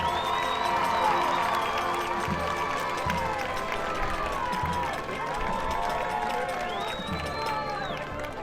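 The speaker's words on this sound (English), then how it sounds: "Let's have a round of applause for your senior princess, Olivia Vasquez." Crowd applause and cheering at a high school homecoming football game, a loud steady roar of clapping with shouts and whistles from the stands and a voice carrying through the noise.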